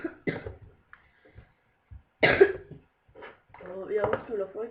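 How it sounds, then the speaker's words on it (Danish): A person coughs several times in short harsh bursts, one loud and close, between quiet gaps, with some speech-like sounds toward the end. "jeg undskylder frygteligt for min hoste"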